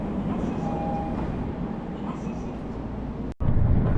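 Riding a subway train in Tokyo: a steady, loud rumble and roar of the moving carriage fills the clip, with a brief dip and a louder surge near the end.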